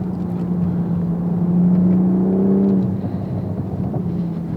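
A Toyota Supra RZ sports car engine hums with a steady low drone, then swells as it revs and accelerates briefly before settling back to a smooth cruise, heard from inside the car.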